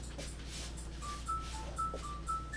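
Mobile phone ringing with a short repeating electronic tone, faint and slightly distant over a low background hum, with no talking.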